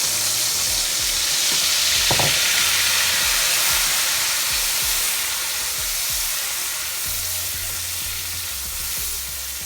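Blended caramelized onion and sweet pepper mixture hits a hot pan of frying fish stew, giving a steady loud sizzle and hiss with a few low clunks, no talking.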